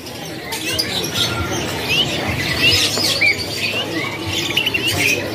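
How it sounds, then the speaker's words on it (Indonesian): Canaries for sale at a bird kiosk in a busy bird market, chirping and trilling in quick, bright bursts over a constant, noisy market hubbub. "ini pilihan burung kenari dengan stok terbaru"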